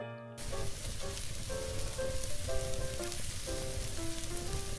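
Chopped garlic and half a small onion frying in oil for a chickpea dal with egg dish, a soft steady sizzle that begins abruptly and continues under quiet background music.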